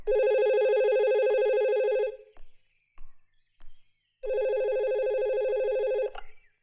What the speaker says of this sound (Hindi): अरे कितनी देर से घंटी बज रही है, कोई उठाता क्यों नहीं?